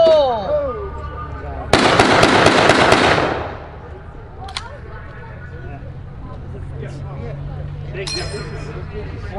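M1 rifles firing blank cartridges at a WWII encampment give a loud, close burst of sharp cracks lasting a couple of seconds, then a quieter outdoor background with faint clinks and scattered distant sounds.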